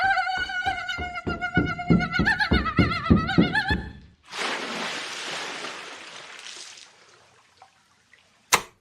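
Rapid rhythmic thumping of a person running up a ramp under a high whining tone gives way to a big, loud splash into a 10-foot deep dunk tank that churns and fades, then a single sharp knock.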